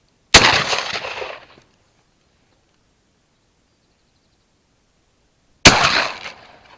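Two loud, close shotgun blasts fired at corvids near a milking parlour, each a sharp crack with a short ringing decay, about five seconds apart with silence between.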